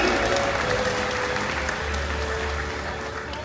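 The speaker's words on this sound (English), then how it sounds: "Let's give our audience volunteers a huge round of applause" Audience at a SeaWorld orca encounter show applauding volunteers, a dense, even wash of clapping from a large outdoor crowd lasting throughout, with a low rumble beneath.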